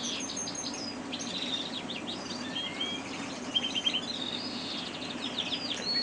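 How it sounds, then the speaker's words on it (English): A shed full of breeding cage birds chirps and twitters constantly in a dense overlapping chorus of high calls and whistles above a low hum, with a few nearer, sharper notes. "As you can hear, the shed is full of noise. The birds are in full condition."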